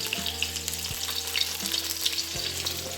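Fish frying in hot oil in a home kitchen, a steady close crackling sizzle running throughout with a couple of brief low knocks, no voices.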